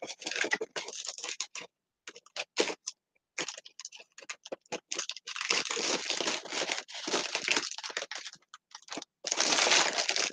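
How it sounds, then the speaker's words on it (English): Dense, irregular crinkling and crackling of stiff paper as a paper lantern is assembled, close and fairly loud, in bursts with short pauses and no talking. "I don't know what like all the crackling sounds like to you guys."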